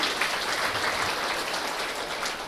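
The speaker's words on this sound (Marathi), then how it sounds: "टाळ्या वाजवायच्या त्या सगळ्यांसाठी" An audience at a Brahma Kumaris gathering claps, a dense, steady wash of applause from many hands that fills the whole stretch with no voice over it.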